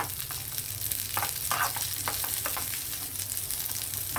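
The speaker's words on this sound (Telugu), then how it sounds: "కిస్మిస్లు కొంచెం ఇలా కలుపుతూ వేయించాలి లేదంటే మాడిపోతాయి" Raisins sizzle steadily in a hot pan while being stirred for a ragi vermicelli kheer, a continuous close frying hiss broken by a few soft scraping stirs.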